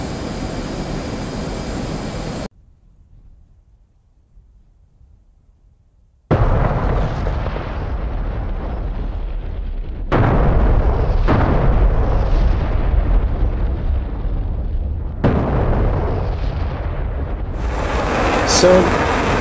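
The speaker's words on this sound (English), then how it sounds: "watch those JDAMs go in and hit their target" JDAM bombs strike their target in the flight simulator DCS World, dropped from an F/A-18C Hornet: after a silent gap, heavy booming blasts land in successive waves, loud and rumbling against a jet engine drone.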